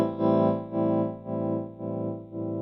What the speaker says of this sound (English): I've set up the wiggler for kind of a slow, subtle tremolo.